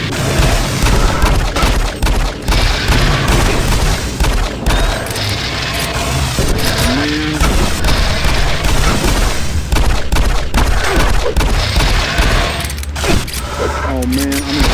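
Shotgun blasts and heavy booms fill a Doom 3 BFG VR battle, loud and dense with mechanical clatter throughout, while a player talks over the action.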